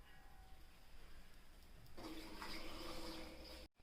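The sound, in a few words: pouring water into cooking pot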